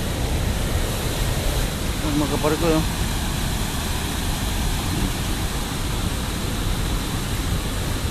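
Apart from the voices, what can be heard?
waterfall at WeirDam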